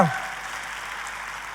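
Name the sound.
congregation applause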